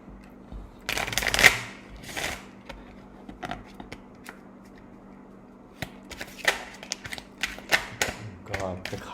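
Tarot cards are shuffled by hand in quick riffling and clacking bursts, close and crisp, with pauses between runs and faint room noise beneath.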